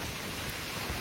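Heavy rain driven by wind during a night storm at a school, a dense steady hiss of downpour with low rumbling gusts, continuous and fairly loud throughout with no talk.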